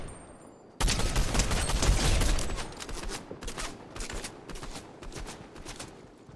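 Gunfire in Fortnite, a sudden loud burst of rapid shots that continues as a sustained run of fire, gradually thinning to spaced reports.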